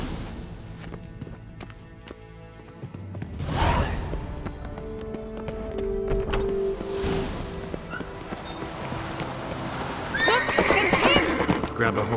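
Horses whinny and neigh with the clatter of hooves in The Witcher 3: Wild Hunt, a loud whinny rising midway over steady game music and ambience, with a second neigh and stirring hooves later. Voices speak intermittently.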